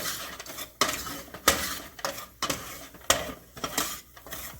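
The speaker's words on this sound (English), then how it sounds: "And we're gonna stir that. Get that stirred nice and mixed together." A spoon scrapes and clinks around a pot as flour is stirred into the base for chicken and sausage etouffee, with repeated sharp scraping strokes at an uneven rhythm, close and fairly loud, no talking.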